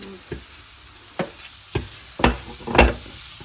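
Carrots and leeks being stirred and sautéed in a pan while making Sri Lankan cutlets, heard as a few distinct scraping, knocking stirs spaced about half a second apart over a faint sizzle, close and moderately loud.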